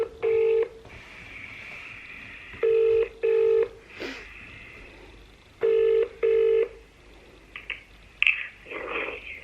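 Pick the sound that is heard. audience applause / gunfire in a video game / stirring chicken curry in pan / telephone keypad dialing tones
telephone keypad dialing tones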